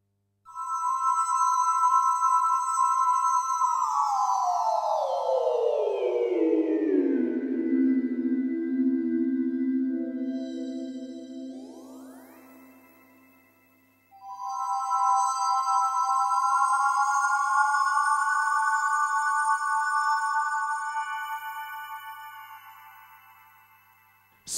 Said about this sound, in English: That's Fantasia 90s, that's a famous sound.